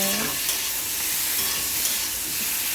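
Potatoes fry in a pan with aubergine and yard-long beans for a Bengali curry while they are stirred. A steady, loud sizzling hiss carries on throughout, with faint scraping from the stirring.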